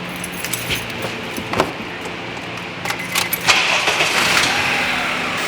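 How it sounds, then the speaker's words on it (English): Keys jangle and click close by, then a car engine cranks and catches on a solar booster jump pack, settling into a steady idle that carries on to the end. "Just go ahead and start your car."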